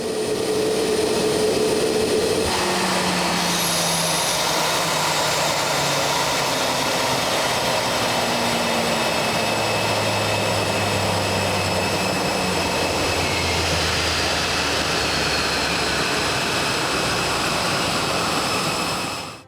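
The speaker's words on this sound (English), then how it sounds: "during the engine's shutdown sequence, you may hear a pressurized air noise." A CFM Leap-1A jet engine winds down through its shutdown sequence, giving off a steady loud rush of pressurized air with falling tonal whines, close and continuous throughout.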